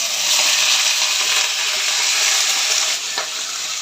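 Half a kilo of mutton mince frying in hot oil for keema with capsicum: a loud, steady, close sizzle hissing continuously, with a slight dip near the end and no voices.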